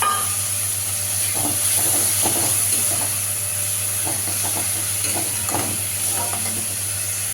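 A tomato, cumin, coriander and ginger paste sizzles in hot masala in a pan, giving a steady loud frying hiss with light stirring scrapes throughout.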